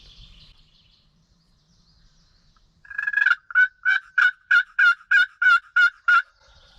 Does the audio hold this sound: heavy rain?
no